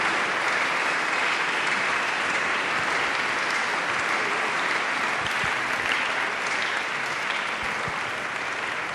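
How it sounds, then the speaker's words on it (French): A church congregation applauds loudly and steadily throughout, a dense, continuous wash of clapping from a large crowd standing during a service. "Applaudissez très fort pour l'Éternel."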